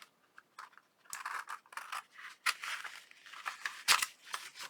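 Paper being cut with scissors for a junk journal, a run of close, crisp snips and rustles arriving in irregular bursts, with brief pauses between cuts.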